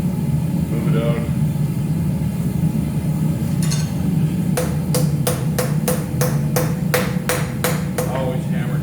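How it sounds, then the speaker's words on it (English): Sharp metallic hammer strikes on hot steel ring out in a quick, regular series of about a dozen blows while forging, over a steady background hum with a voice speaking earlier. "Always hammer it down."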